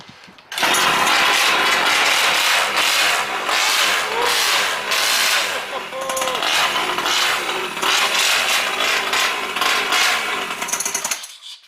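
A Primal RC Raminator monster truck's gas engine with a TMR performance upgrade starts and runs loud and raspy close by, its buzzing roar wavering slightly for about eleven seconds before cutting off.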